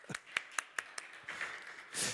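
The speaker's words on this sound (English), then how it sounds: "So we'll continue with the applauding here." A handful of scattered claps welcoming a guest onto the stage at a renewables summit, faint and sparse, spaced irregularly, followed by a brief burst of noise at the end.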